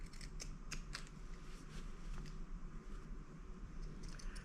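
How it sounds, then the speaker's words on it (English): Scissors snip fabric seam allowance around curves of Halloween placemats, giving quick, faint, close clicks at an irregular pace over a low background hum. "If you don't have pinking shears, you can just put a little clip about every 1/4 inch, but don't cut all the way through your seam."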